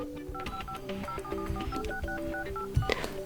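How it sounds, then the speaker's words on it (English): Samsung Galaxy A10 dial pad tones sound in a fast run of clear electronic beeps, each keypress giving a short dual-pitch tone, crisp and close with no talk. "let me show you how to activate or deactivate dial pad tones on this device"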